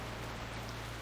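Steady rain falls in World of Warcraft, a soft continuous hiss of pattering drops at low level with a faint low hum beneath, no voices.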